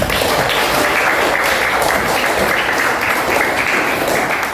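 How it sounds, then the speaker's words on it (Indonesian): Audience in a classroom or training session on emotional resilience applauds itself, a steady, dense clapping that fills the room from start to finish at a constant level, with no voices standing out. "kita tepuk tangan untuk kita semua"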